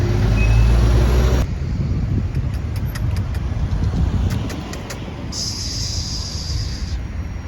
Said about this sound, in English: the traffic is usually very busy, as you can see.